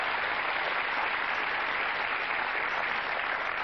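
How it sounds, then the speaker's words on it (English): Studio audience applause on the game show Catchphrase rolls on as a steady, even wash of many clapping hands, moderately loud and unbroken, with no voices over it. "Give a nice big round of applause"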